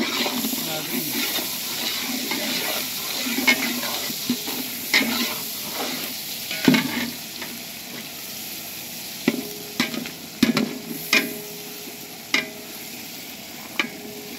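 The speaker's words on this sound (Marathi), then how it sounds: "फुल्ल कांदा टाकलाय, जर हलवतो बाबा कांदा लागेल" Onions being stirred as they fry in a pot on a wood-fired stove for biryani, giving a steady sizzle with scattered scraping knocks of the spoon against the pot, moderately close.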